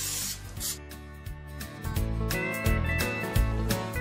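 Water sprayed to rinse and wet a 1969 GMC carburetor during a rebuild, a close hissing spray with choppy bursts and spatter against the metal, fairly loud and without talking.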